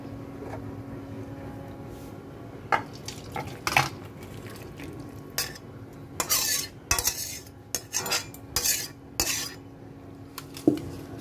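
A spoon clinks and scrapes against a pot of thin chicken curry with onion and tomato as it is stirred after the heat is turned off, giving scattered sharp metallic knocks and scrapes over a low background hum.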